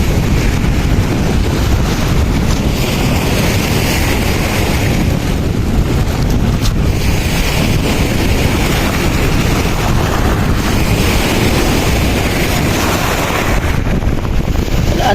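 Ocean waves wash steadily onto a shore where clams lie scattered, a loud continuous roar of surf mixed with heavy wind buffeting the microphone throughout.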